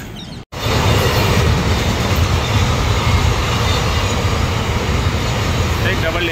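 A long, fully electric double-stack freight train passes close by on the Mumbai–Delhi dedicated freight corridor near Jawai Bandh station, a loud, steady roar of rolling wagons that begins after a brief dropout and continues throughout.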